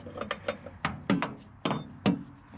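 A wrench turns a bolt on a gooseneck hitch being fitted under an F250 pickup, giving sharp metallic clicks and clanks in uneven bursts, close and moderately loud.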